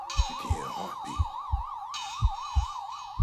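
An emergency vehicle siren wails in a rapid, regular up-and-down yelp, loud and close, with a heavy thumping beat pulsing underneath.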